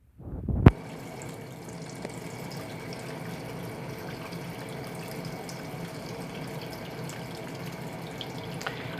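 A ZENSTYLE full-automatic mini washing machine loaded with a queen sheet and clothes begins filling, a click followed by a steady, even rush of inflowing water throughout.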